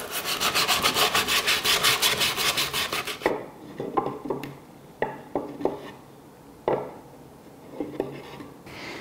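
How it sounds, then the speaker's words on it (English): A power sander runs against wood around the opening of a homemade wooden candy dispenser, a steady pulsing buzz for about three seconds, then scattered knocks and scrapes of wood being handled. "we can still sand this smooth a little. We can sand around here, around this opening as well"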